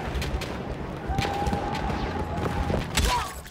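Gunfire from the video game Battlefield 1: repeated sharp shots and booms crackle through a dense battlefield din, with a thin whistling tone in the middle and a louder burst near the end.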